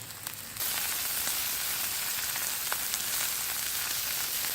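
Beef browning in a pan breaks into a loud, even sizzle after a short quieter start, then holds as a close, continuous hiss with a faint tick or two.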